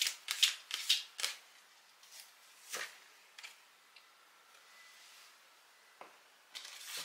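Oracle cards shuffled to draw a Wisdom card: a quick flurry of crisp riffling flicks at the start, then scattered softer card taps and slides with pauses, close and fairly quiet, no talking.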